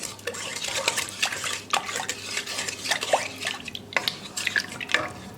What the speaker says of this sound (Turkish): bir yemek kaşığı şeker atıyorum ve şöyle bir karıştırıyorum